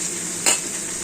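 Drumstick flowers and potatoes fry in a pan on a low gas flame, giving a steady bright sizzle with a brief louder burst of hiss and stirring near the middle.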